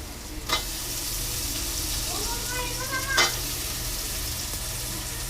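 Potatoes hit a pan of frying onions with turmeric, chili and fresh ginger-garlic paste, raising a strong steady sizzle with a couple of sharp clatters and faint tonal squeaks, close and continuous, no talking.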